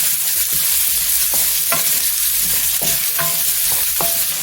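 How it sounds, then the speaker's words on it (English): Onions sizzle steadily in a hot pan while being stirred, a loud continuous frying hiss broken by occasional scraping knocks of the utensil. "Add your onions and turn the heat down to"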